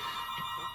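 A phone rings in the background of a room, its steady electronic tone holding at moderate loudness throughout without speech.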